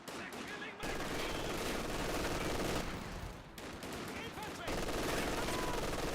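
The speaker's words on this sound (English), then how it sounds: "MG42 is getting hit pretty hard" MG42 machine gun fire in the video game Company of Heroes 2 rattles in long, dense bursts with short gaps, mixed with other battle gunfire, while a commentator talks over it.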